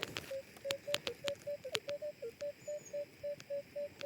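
A metal detector sweeping over a buried thimble at a medieval site, giving a rapid string of evenly spaced short beeps over faint clicks and scraping, soft and near.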